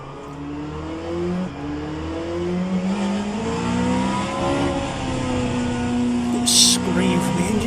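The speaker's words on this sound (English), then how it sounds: "Scream from the engine. So, like I said, it's a Gibson V8." Gibson V8 race car engine in rFactor 2 revving and climbing through gears with a rising, rasping drone that swells louder toward the end, with a person talking over it.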